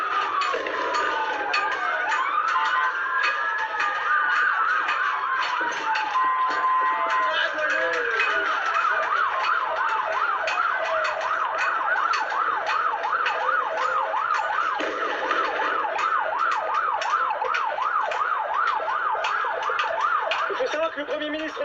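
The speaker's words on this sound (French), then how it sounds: "C'est le balai des ambulances" Ambulance sirens wail through a street in Beirut during a time of heavy unrest. Several rising and falling tones overlap and sweep continuously, fairly loud, with steady traffic noise underneath.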